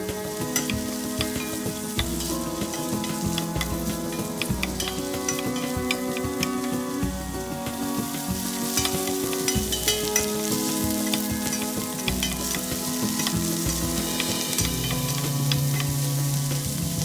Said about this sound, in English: Add olive oil to a pan on medium heat and saute the onion until it's softened but not browned.